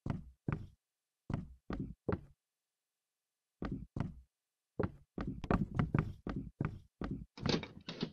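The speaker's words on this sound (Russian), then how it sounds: "Ой, двери сами открываются." Doors open by themselves in the escape game Побег из дома (Escape from Home), heard as a series of sharp wooden knocks and thunks in irregular bursts, close and fairly loud, with silent gaps between clusters.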